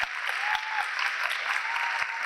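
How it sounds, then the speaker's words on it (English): Audience applause fills a room at a Hispanic Heritage Month celebration, an even wash of many hands clapping, with a thin whistle-like tone drifting above the crowd. "A big round of applause para Armando por aquí"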